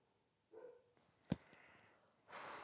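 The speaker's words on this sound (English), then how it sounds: "Our dog barked downstairs." A dog barks downstairs in a house at night, heard as a faint, distant single bark with a sharp knock and soft hiss in an otherwise quiet room.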